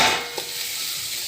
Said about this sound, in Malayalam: ഉള്ളിയും സവാളയും പച്ചമുളകും കൂടെ വഴറ്റി ഇനി ഒരു പഴുത്ത തക്കാളിയും കൂടി ഇട്ട്